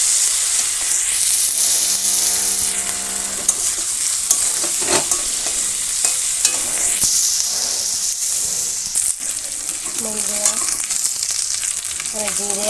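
Garlic and cumin fry in a pan in a village kitchen, a loud continuous sizzle with repeated stirring scrapes and spoon clinks running throughout, with no talking.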